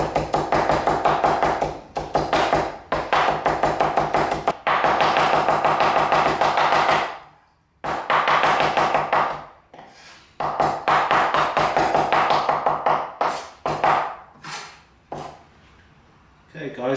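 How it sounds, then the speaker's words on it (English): A knife chops flattened garlic on a board in a home kitchen in rapid rhythmic bursts of sharp taps, pausing briefly between runs, loud and close with no talk. "after I chop the garlic over here"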